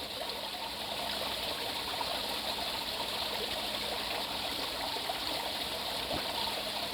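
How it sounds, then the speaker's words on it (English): Garden water feature beside a decked seating area, trickling and splashing steadily and close by, a continuous soft flow with no talking over it. "But you've got this water feature."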